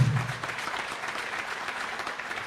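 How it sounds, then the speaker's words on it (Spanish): A seated audience at a political training talk claps for a guest, a brief, moderately loud patter of many hands that begins with a sharp onset and holds steady. "quiero pedirles un voto de aplauso para nuestro hermano Jorge Zichter."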